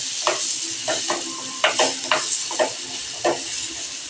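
Spices with turmeric and chili powder sauté in a pan, a constant hiss of frying oil broken by several scraping stirs of a spoon at uneven intervals, close and clear with no speech.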